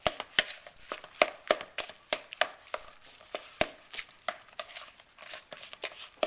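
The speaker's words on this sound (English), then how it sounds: "Now I'm just going to be mixing this all together." Meatloaf mixture seasoned with salt, pepper and garlic is worked by hand in a bowl, making a rapid, uneven series of close, wet tapping and squishing sounds with no voices.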